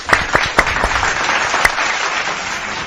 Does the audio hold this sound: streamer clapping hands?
yes